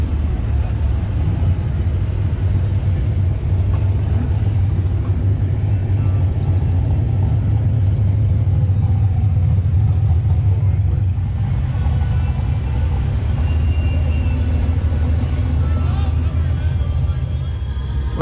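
A 1958 Corvette fitted with a 383 stroker V8 rumbles with a steady, loud low idle throughout, set amid a busy car show with voices talking over it.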